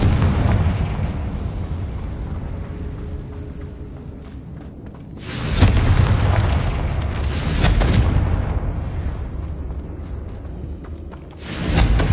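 Confringo fire spell explosions in the Hogwarts Legacy video game, rumbling blasts that swell and fade in several waves across the clip, loud and near with no talking.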